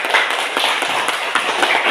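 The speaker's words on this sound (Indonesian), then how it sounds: "Bisa beri tepuk tangan dulu." A classroom of students clapping their hands together in a brief, dense patter that holds at a steady level for about two seconds.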